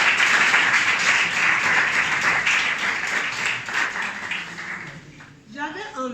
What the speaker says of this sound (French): Vous allez vous applaudir vous-même.